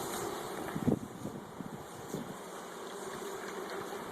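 Honeybees from a newly installed package hum at a feeder of sugar syrup, a steady, close insect drone with a brief louder bump near the start, set against light wind noise.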